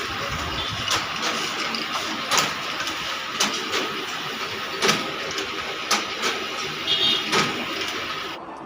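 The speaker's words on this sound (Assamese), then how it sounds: "এয়া প্ৰিণ্টিং চলিয়ে আছে" A printing machine running a job in a small shop, giving a steady loud mechanical whir with regular clacking pulses about once a second before it eases off at the end.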